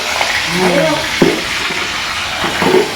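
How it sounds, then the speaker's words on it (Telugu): Onions frying in oil in a kadai, a steady loud sizzle and crackle with a few stirring clinks, while a person talks over it. "ఇక్కడైతే ఒక కడాయి అయితే పెట్టేసుకొని ఆయిల్ అయితే వేసుకున్నారు చూడండి ఉల్లిగడ్డ అయితే వేసుకుంటున్నారు"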